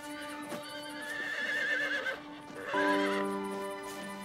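A horse whinnies twice in a cartoon soundtrack, a long wavering neigh followed by a second rising call, loud and close, with hooves clip-clopping and no talk over it.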